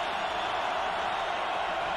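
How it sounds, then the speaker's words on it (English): A football stadium crowd at a Northern Iowa vs Montana college game roars steadily, a broad, loud sustained cheer with no breaks. "Listen to the crowd."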